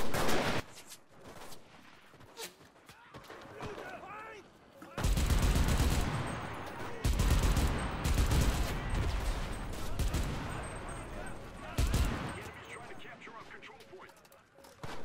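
Machine gun bursts in the shooter game Enlisted, loud rapid volleys with pauses between them and distant gunfire mixed in, under excited talk from a player.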